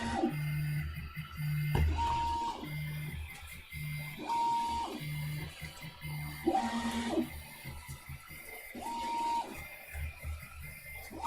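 Prusa i3 MK2S 3D printer printing on a heated bed: a steady mechanical hum with repeating whirring stepper-motor tones rising and falling in short, regular moves, close and continuous, no talking.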